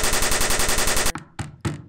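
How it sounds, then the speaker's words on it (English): Rapid automatic gunfire rattles loud and continuous for about a second, then stops and is followed by a few sharp, separate bursts with short gaps between them. No screams stand out. "suddenly they hear gunshots and screams."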